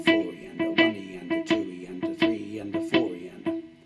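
Electric guitar played through a delay pedal, plucked notes ringing out with rhythmic echoing repeats in a steady pulse, clear and close with no talking.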